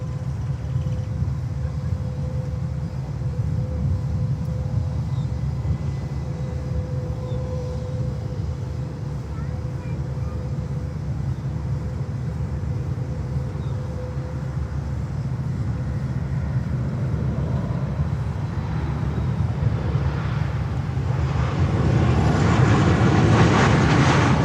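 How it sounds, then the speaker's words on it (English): A three-year-old JetBlue Boeing 737 MAX 8 on approach to land at Fort Lauderdale, a low steady jet rumble that swells louder toward the end, with a faint voice in the background. "A 737 MAX 8, 3 years old. That's the one coming in here."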